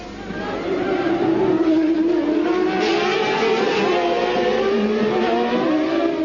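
Formula 1 cars from the 1995 season accelerating away at a race start, a steady rising engine whine with several cars blending together, loud and continuous, with a commentator's voice partly over it.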